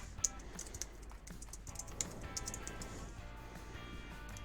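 Keys clatter steadily on a computer keyboard while entering a default value in AutoCAD, with quick, irregular taps close by and fairly quiet against a faint background hiss.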